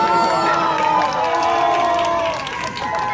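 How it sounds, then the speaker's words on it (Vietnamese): Spectators at a women's soccer match cheer and shout in a loud, sustained burst that eases slightly toward the end, with voices mixed through the crowd noise. "Không qua mà tại sao lại vỗ tay dữ vậy ta?"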